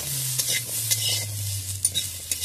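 Potatoes with turmeric fry in a pan while being stirred, a steady close sizzle broken by scraping clicks of the spoon against the metal.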